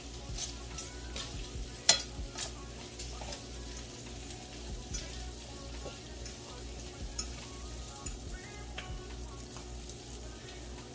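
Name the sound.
shrimp frying in a pan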